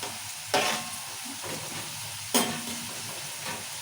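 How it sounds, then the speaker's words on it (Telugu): Onions and green chillies fry in a pan for a fish curry, giving a steady close sizzle with two louder bursts of stirring or fresh hissing spread across the span. "ఇప్పుడు ఉల్లిపాయల్లో పచ్చిమిర్చి మంచిగా వేగాలి"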